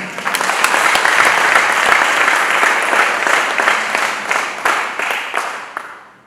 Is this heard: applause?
yes